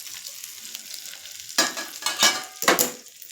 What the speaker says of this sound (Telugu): మొత్తం ఇదంతా మిక్స్ అయ్యేటట్టు కలిపేసుకుంటే మనకి పచ్చడి రెడీ అయిపోతుందండి